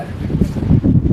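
Wind buffeting the microphone outdoors on Perumbalam island in Alappuzha: a brief, loud, low rumbling gust that swells and dips over about a second.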